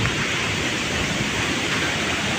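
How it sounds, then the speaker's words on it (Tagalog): Heavy rain and wind from Typhoon Upo roar as a steady, loud broadband wash with no pauses, the downpour continuous and close throughout. "Binabayo pa rin ang ating Bagyong Upo."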